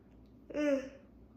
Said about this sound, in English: See, I got a yawn out of that one.